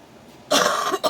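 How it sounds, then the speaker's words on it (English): A single person coughs twice up close indoors in a kitchen: a sharp, loud burst followed by a brief pause and a shorter second cough, with no talking. "sometimes I got a cough"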